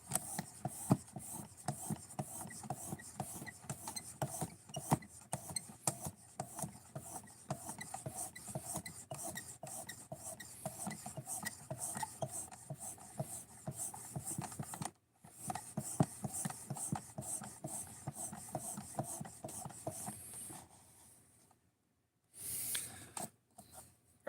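A knife blade drawn repeatedly over a leather strop loaded with diamond paste, giving a steady close rasping scrape in quick strokes that runs almost continuously, then breaks off near the end into a brief pause and a short final pass.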